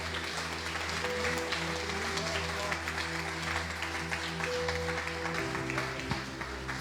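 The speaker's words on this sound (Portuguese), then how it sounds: "Você pode dar um aplauso ao Senhor?" Congregation at a church anniversary service giving sustained applause, a continuous crackle of many hands clapping over a constant low hum of sound equipment and instruments, fairly distant and even throughout.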